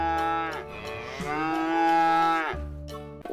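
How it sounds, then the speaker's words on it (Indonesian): A cow moos loudly and close, one long drawn-out call with a second, shorter moo after a brief break, and no other sounds around it. "Wow, sapi ternyata."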